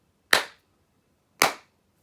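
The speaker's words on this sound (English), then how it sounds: "So do a clap test." Two sharp hand claps about a second apart in a room fitted with acoustic panels, each a bright crack with a short, quickly damped tail and silence between.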